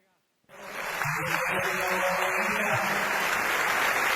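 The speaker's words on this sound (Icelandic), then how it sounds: "Við ætlum að gefa þeim gott klapp" An audience at a gathering breaks into loud, steady applause after a brief moment of silence, the dense clapping holding at full strength to the end with faint voices mixed in.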